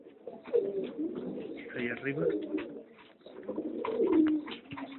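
A pigeon coos in a series of soft, rhythmic, low calls at close range, rising and falling in two main bursts while someone speaks over it.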